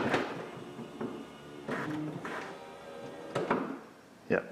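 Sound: car door pulling in and latching

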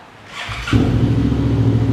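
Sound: Suzuki V-Strom 650XT motorcycle aftermarket Akrapovic-style exhaust

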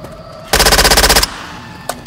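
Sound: machine gun firing in Left 4 Dead 2 video game

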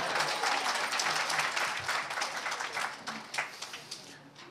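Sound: audience applause at seminar

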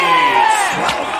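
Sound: audience cheering and applauding a makeover contestant

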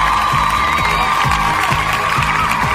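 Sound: audience applause and cheering at a live concert

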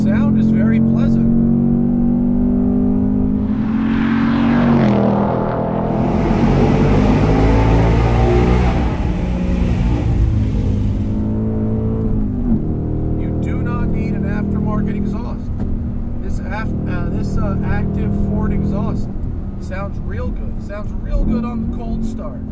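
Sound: 2024 Ford Mustang GT V8 engine driving

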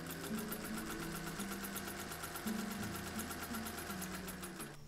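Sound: sewing machine stitching bucket hat brim seam allowances

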